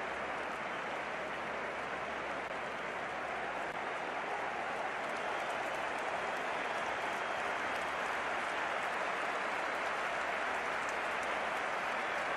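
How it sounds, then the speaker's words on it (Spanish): A stadium crowd applauds continuously in an esports football match between Athletic Club and Real Sociedad, a dense, even wash of clapping and cheering that holds steady throughout. "Gente aclama a Ander Herrera, el reemplazante de Ruiz de Galarreta"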